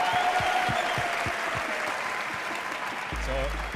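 A home crowd at the TOYOTA GAZOO Racing GT Cup 2023 Grand Final applauds with steady sustained clapping, a voice speaking over it near the end.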